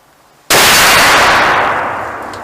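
A single sharp, loud shot from a muzzleloader rifle loaded with smokeless powder, fired at a target, bursting suddenly and then trailing off in a long fading echo.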